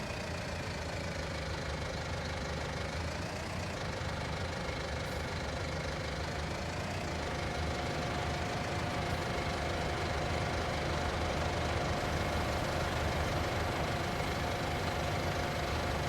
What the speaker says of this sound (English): a weird little tractor. I didn't even know it was in the game.